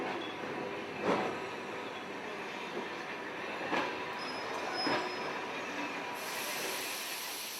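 A long-distance train pulls alongside a station platform, its metal carriages creaking and grinding in a steady rolling rumble, with a few louder clanks and squeals recurring at intervals.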